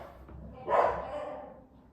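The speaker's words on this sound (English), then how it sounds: "My dogs are going crazy." Dogs bark indoors, one short, fairly distant bark rising out of a quiet room with a soft tail afterward.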